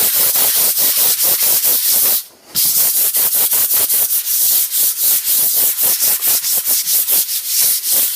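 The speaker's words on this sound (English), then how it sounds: "So when I sand, I just start to come through a little bit and I can start seeing the white" Rapid back-and-forth sanding of a cured shellac primer coat, loud close rasping strokes in a fast steady rhythm, with one brief pause partway through.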